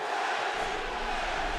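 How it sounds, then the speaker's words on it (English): A boxing arena crowd chanting for their fighter before the Manny Pacquiao versus David Diaz bout, a loud, dense, sustained roar of many voices filling the hall. "The crowd chants for their man."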